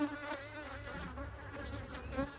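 Honey bees buzz densely around an opened backyard hive, a steady close swarm drone with individual bees darting near the microphone.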